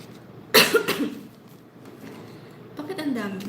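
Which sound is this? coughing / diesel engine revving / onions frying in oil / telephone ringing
coughing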